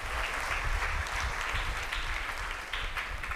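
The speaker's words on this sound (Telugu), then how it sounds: "గట్టిగా ఒకసారి చప్పట్లు కొట్టండి." A church congregation at a Catholic New Year morning mass in Kankipadu claps together in steady, dense applause that fills the hall, sustained and even throughout.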